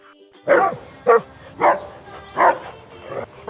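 A dog barks five times in an evenly spaced sequence, loud and close, within a children's phonics alphabet song.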